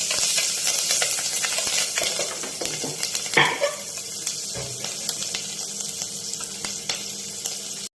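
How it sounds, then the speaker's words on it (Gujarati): Green chillies sizzle as they are dropped into hot oil seasoned with a pinch of asafoetida for a spicy chilli lemon Maggi, a steady crackling fry with a brief clatter of stirring midway. "અને પછી આ તેલમાં આ મરચી નાખી દેવાની છે"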